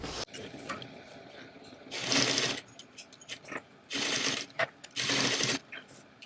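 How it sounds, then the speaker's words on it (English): A sewing machine top stitches a pocket onto a tote bag, running in several short close bursts of rapid mechanical whirring, separated by brief pauses and small clicks of handling. "I'm going to head over to my sewing machine and I'm going to edge stitch or top stitch down this side"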